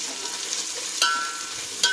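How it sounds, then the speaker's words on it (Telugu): Onion, green chili, carrot, potato and beans with turmeric fry in a pan, a soft continuous sizzle with a couple of brief stirring scrapes. "వేయించుకుందాము."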